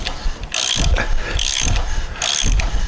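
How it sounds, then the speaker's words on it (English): A socket ratchet winds a thread-restoring tap onto a halfshaft thread, giving three repeated sweeps of rapid pawl clicking close up and clear, with no talk over them. "gently wind on using your eyeball to check that your socket is looking true on the thread"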